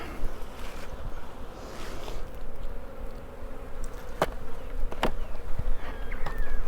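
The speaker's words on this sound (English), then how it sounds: "And the bees are getting a little pissy now." Agitated honey bees buzz steadily around a hive in Florida in October, a close continuous droning swarm with a couple of sharp clicks and handling noises.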